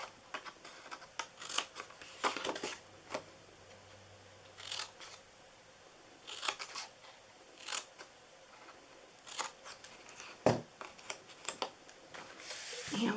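Scissors snip through the sides of a paper box in short, quiet, separate cuts with gaps between them, close to the microphone in a hushed room.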